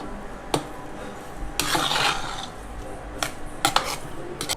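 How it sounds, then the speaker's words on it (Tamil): Cooked Thooyamalli rice is worked into tamarind paste in a pot, giving scraping and clinking strokes of a spoon against the metal vessel in irregular bursts, a longer rubbing stretch in the middle, close and moderately loud with no voices. "வடித்த சாதத்தை புளியோதரை கூட நல்லா மிக்ஸ் பண்ணிக்கணும்."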